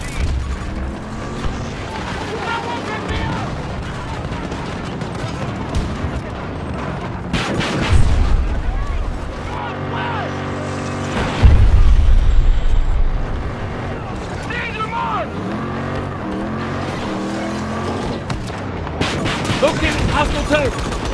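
Battlefield 2042 gunfire and heavy explosive booms roll through a chaotic battle soundscape, with loud blasts standing out now and then, while voices call out over the combat.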